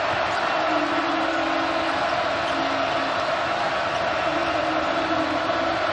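Arena crowd roars after a slam dunk during a TCU at Kansas college basketball game, a loud sustained wash of cheering with a commentator talking over it.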